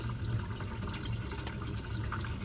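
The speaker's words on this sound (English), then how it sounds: "we're going to rinse it until that water runs clear" Tap water runs steadily while turmeric-dyed fabric is rinsed in a sink, a continuous even splash and gurgle with no talk over it.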